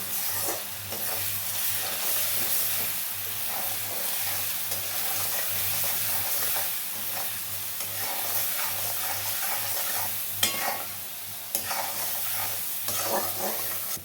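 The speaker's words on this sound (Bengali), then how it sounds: "রসুনটা আমার ভাজা হয়ে গেছে" Garlic sizzles in hot oil in a pan while cooking a mutton and potato curry, a steady close frying hiss with occasional stirring scrapes and clinks, no talk.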